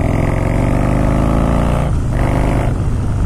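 A Harley-Davidson motorcycle engine pulls hard and steady out of a bend, a loud, close, rumbling drone with a slight dip in pitch partway through before it picks up again.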